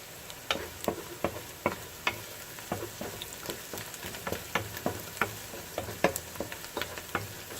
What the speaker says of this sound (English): Stir it up a little bit. Make sure it's cooking evenly.